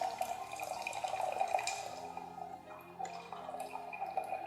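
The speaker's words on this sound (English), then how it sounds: "we need to pour this water out. What it does, it rinses our tea and it wakes up our tea leaves" Rinse water poured off pu-erh tea leaves during a gong fu tea ceremony, a soft continuous trickling and dripping stream, close and gentle, with no talk over it.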